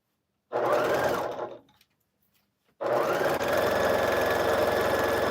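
Sewing machine stitching a large quilt, a brief steady whirring run, a pause, then a longer continuous rhythmic hum, close and clear.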